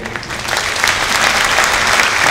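A municipal hall audience at a mayor's New Year greetings ceremony breaks into applause, a dense, loud, sustained clatter of many hands that builds and holds.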